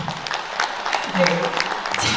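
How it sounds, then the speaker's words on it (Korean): An audience at a concert launching a lyricist's songs applauds, a sustained, moderately loud patter of many hands, with a voice briefly audible partway through. "박수 한번 부탁드리겠습니다"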